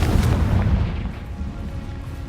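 A Confringo fire spell from Hogwarts Legacy erupts in a deep, heavy boom that hits hardest at the start, then rumbles and fades into a low, lingering tail, with no voices.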